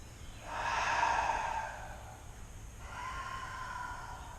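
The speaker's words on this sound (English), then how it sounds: "Deep breath in. Belly lowers. Exhale it out." Two long, deep breaths during a morning yoga class: a slow, airy inhale swelling and fading, then a softer, steady exhale, close to the mic in a quiet room with no talking.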